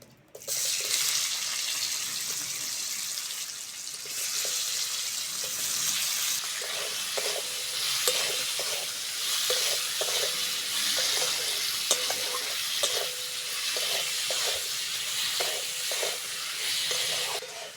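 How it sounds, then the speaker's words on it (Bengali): Onion and tomato frying in a pan for Bengali-style biulir dal tempering, with a loud, continuous sizzle and regular scraping spatula strokes close by, and no voices. "পেঁয়াজ আর টমেটোটা ভালো করে ভেজে নেব"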